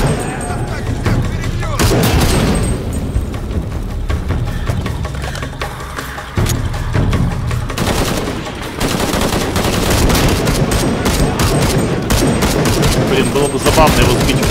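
Heavy, continuous video game gunfire from Shadow of the Tomb Raider with rapid bursts and booms fills the whole stretch, loud and dense, with shouting voices mixed in.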